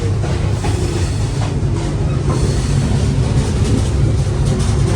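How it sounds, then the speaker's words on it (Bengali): A moving passenger train running on rails, heard from inside a carriage as a steady, loud, continuous rumble with faint rhythmic clatter throughout and no voices. "আমি যে ট্রেনটাতে যাচ্ছি"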